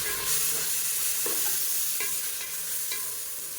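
Spice powder and tomatoes being stir-fried in oil for chicken biryani, giving a steady sizzle with soft scraping stirs at intervals, close and alone.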